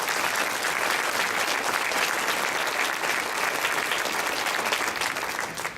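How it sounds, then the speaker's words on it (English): Sustained audience applause fills the room at a Rotary Club event, steady and dense throughout with a slight fade near the end and no talk over it. "so let's give a big round of applause"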